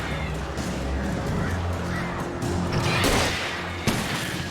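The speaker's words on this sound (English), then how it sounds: "Die, birds!" Attacking crows in Alan Wake Remastered give harsh caws and squawks over steady game noise, with impact crashes mixed in, fairly loud and close.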